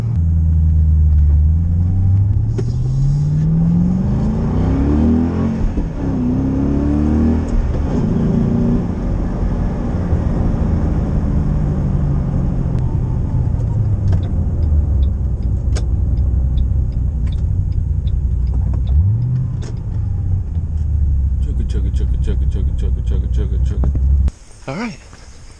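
A Ford Mustang cruises along the road, its engine rumbling in a low, steady drone, with shifting pitch as it changes speed. A voice talks over the drive for most of the stretch.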